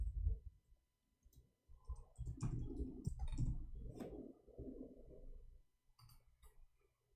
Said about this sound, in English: Oh, I'm typing in Arabic